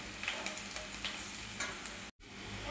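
Onions frying in a pan as raw cumin goes in, with a dense, steady sizzle and stirring scrapes that drop briefly to silence before resuming, close and continuous.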